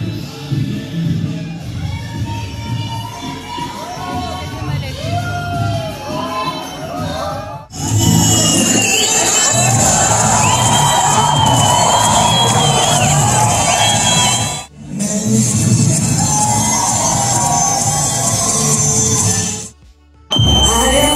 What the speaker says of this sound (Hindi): और भाई यहाँ तो क्या ही भीड़ है भाई